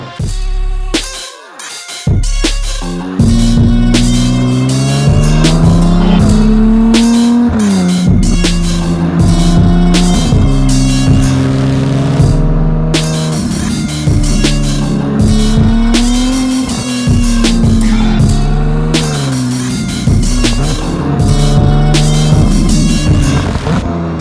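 Ferrari 296 GTB V6 fitted with a Novitec exhaust, revving hard in loud, rising and falling bursts with a raspy, buzzing tone, close and dominant, after a brief quieter start.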